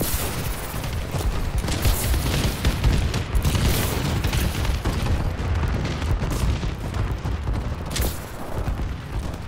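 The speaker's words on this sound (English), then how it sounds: "Friendly bombing run incoming." Friendly airstrike bombing run in a video game, with dense, continuous explosions and rolling booms layered with rapid gunfire, loud and close throughout with sharper blasts standing out near the end.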